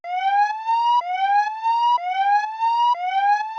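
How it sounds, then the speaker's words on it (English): A slowed, pitched-up police siren wail rises in pitch and loops four times in a steady rhythm, each sweep restarting abruptly; no other sounds. "I actually took a police siren, stretched it out so that it was a slower pitch up"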